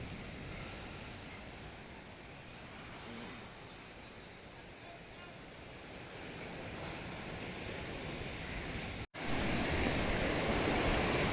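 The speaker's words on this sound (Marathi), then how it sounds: "पाण्याच्या लाटा असे सुंदर वाटतं, पीसफुल" Sea waves at a beach near Ratnagiri and Ganpatipule, a broad, continuous roar of surf with wind noise. The sound is fairly loud and steady, broken by a brief cut near the end.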